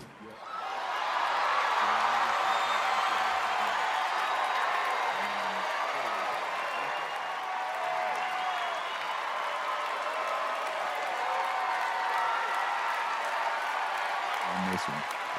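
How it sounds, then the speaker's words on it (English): An audience gives Robert De Niro a standing ovation, with sustained clapping and scattered cheers that swell after a quiet first second and hold steady at a moderate distance. "Yeah, fucking standing ovation."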